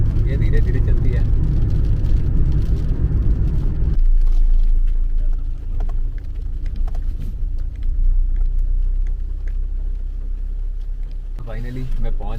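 Fiat Punto driving on hill roads at night, a steady low engine and road rumble from inside the car that drops in level partway through, with talking over it.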